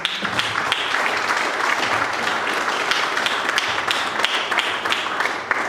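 Steady applause from an audience at a Toastmasters club's 100th meeting, a dense sustained clatter of many hands clapping indoors, fairly loud and continuous throughout with no speech over it.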